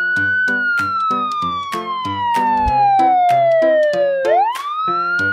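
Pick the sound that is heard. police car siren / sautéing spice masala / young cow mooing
police car siren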